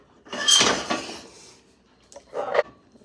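A metal pot of coconut pecan frosting is moved off the stovetop heat, with a clattering scrape of metal on the burner followed a moment later by a second, shorter clank, close by in a quiet kitchen.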